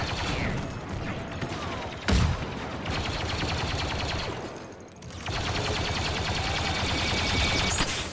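Blaster fire in the Star Wars video game Battlefront 2 crackles in dense, continuous volleys mixed with mechanical clatter and a sharp impact, loud and busy throughout, with a brief lull near the middle.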